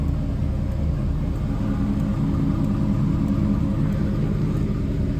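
A 1956 Chevrolet Bel Air engine idles steadily close by, a low, even rumble that holds constant throughout.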